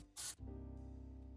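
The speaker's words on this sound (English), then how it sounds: "So might as well spray it with brake clean as well." A short, sharp hiss of brake cleaner sprays onto a Fiat 500 Abarth part, then gives way to a low, steady hum.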